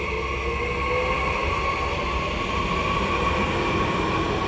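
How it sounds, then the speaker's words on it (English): A train rumbles through a railway station with a steady, loud roar and faint metallic whine that holds the whole time. No one speaks. "As you can see, it's a railway station."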